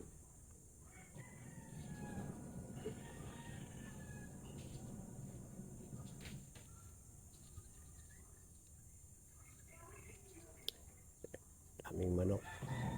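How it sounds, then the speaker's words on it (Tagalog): Many chickens cluck in a rural yard in Pangasinan, with a rooster crowing clearly near the end, quiet insect chirping and faint talk in the background. "Daming manok."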